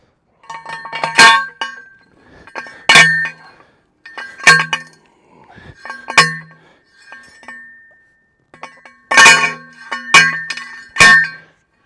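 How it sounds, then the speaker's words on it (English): A manual post driver slams a post into ground set in concrete, sharp metallic clanks repeating roughly every second or two in loud close bursts, with quieter rattles between strikes. "So let me get my post drivers."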